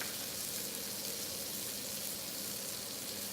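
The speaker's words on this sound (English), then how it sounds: "I'm putting the flour on these, and as you can hear it, it is frying up." Flour-coated pieces fry quietly in a pan, a faint, steady sizzling hiss with no talking.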